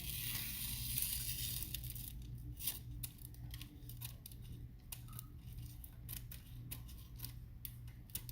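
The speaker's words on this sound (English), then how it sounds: "I grab a pair of scissors, I cut it up" Scissors snipping through a chilled sheet of chocolate-coated Thin Mint cookie dough in a home kitchen, a run of short crisp cuts repeating fairly steadily over a low constant background hum.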